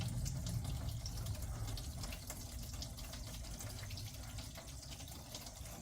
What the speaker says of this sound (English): It started pouring out the hose like it's supposed to.